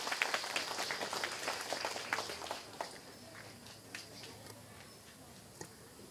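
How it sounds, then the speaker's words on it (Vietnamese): Applause from the assembled monks, nuns and lay Buddhists at a Buddha's birthday (Phật Đản) ceremony at a temple in Georgia, a scattered patter of claps that is strongest at the start and fades to sparse claps. "Hãy dành tràng pháo tay cho Chư Tôn Thiền Đức cùng toàn thể quý Phật tử có mặt ngày hôm nay."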